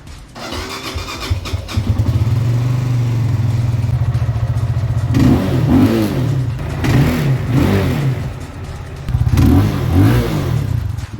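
A Benelli TNT 25 motorcycle engine cranks and catches, then settles into a loud idle broken by several sharp throttle revs, close up with no talking.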